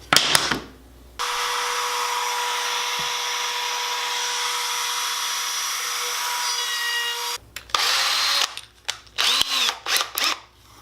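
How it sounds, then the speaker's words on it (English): A power drill fitted with a 3/8 inch Forstner bit bores into wood in one long steady whirring run, followed by short bursts of handling and workshop clatter. "Now coming back with the 3/8 Forstner bit again."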